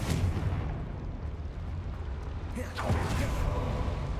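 A Confringo fire spell in the video game Hogwarts Legacy goes off as a single sharp burst about two thirds of the way through, over dense, continuous rumbling game noise with a voice present.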